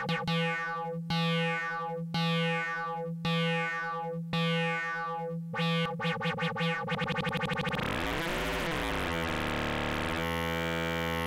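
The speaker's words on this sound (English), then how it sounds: "that's sort of how people get like sort of glassy sort of tones of wave folding" A Serge modular synthesizer folds a triangle wave, starting as a string of loud, evenly spaced bright tonal hits that speed up and blur into a continuous glassy, shifting buzzing tone, alone with no voices.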